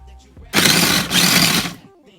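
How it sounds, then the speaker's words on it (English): A food processor chops a very large carrot for carrot soup, with a loud motor whir that starts abruptly, dips briefly mid-run, then resumes before cutting off, preceded and followed by quiet background sound. "I'm going to put them in the food processor"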